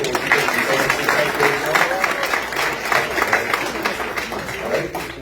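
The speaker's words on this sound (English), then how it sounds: "I would like to start out by clapping up for Omar" An audience at a Rhode Island political campaign event applauds continuously, a dense, moderately loud wash of many hands clapping with voices mixed in.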